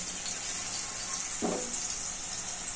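Ginger and onion fry in oil for sherva, a steady soft sizzle with high crackling hiss and a brief stir or clatter midway, close and fairly quiet.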